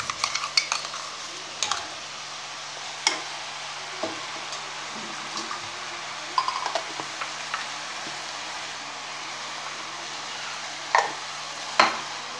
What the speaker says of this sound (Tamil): இதை கிண்டி விட்டுக்கிடுவோம்.